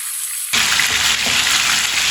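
Chicken frying in a pan for a mango (keri) chicken curry, on a lowered flame. A loud, steady hiss sets in abruptly after a brief quiet start and continues evenly, with no one talking.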